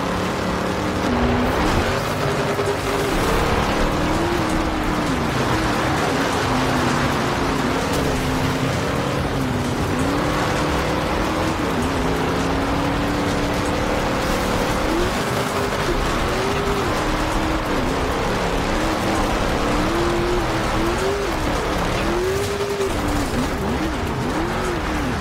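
Game car from Forza Horizon 2 driving steadily with a loud, continuous engine note that rises and falls with shifting pitch, plus intermittent tyre skids, and no talking.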